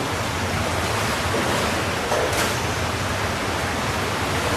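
Rushing water of the Palanguyan river flows in a steady, close, broadband roar that fills the whole span without pause.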